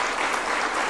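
Applause for coach Cheche at a State House reception for the Harambee Starlets and Junior Starlets, a dense, steady clapping from a large crowd that fills the brief moment.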